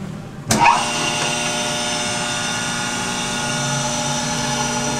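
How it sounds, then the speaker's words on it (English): A Reid 618 rollerway hand-feed surface grinder's spindle motor, wired for 440, kicks on with a sharp click and then settles into a steady, continuous electric whine and hum that stays even throughout, with no talking. "So I'll just go ahead and start the spindle."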